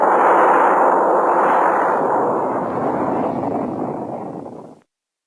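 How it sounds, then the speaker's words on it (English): A spaceship sound effect: a steady, loud, broad roaring whoosh that swells slightly and holds for about five seconds, then cuts off abruptly, with no voices. "Spaceship."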